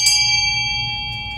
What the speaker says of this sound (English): I will answer the doorbell myself